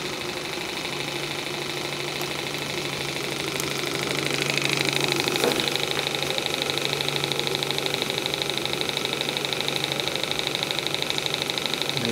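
A TVR1A model steam engine runs on its boiler during break-in, giving a steady mechanical chuffing rumble with a constant low hum and hiss, slightly louder midway through, heard close up with no talk.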